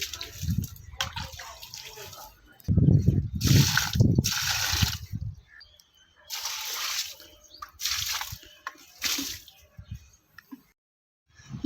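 Soft splashes and patters of water flicked by hand onto plants in several short bursts, with some quiet handling noises between them.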